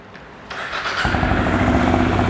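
A 2021 Benelli Imperiale 400 motorcycle with its stock exhaust starts up close by: a brief starter whir, then the engine catches and settles into a loud, steady thumping idle.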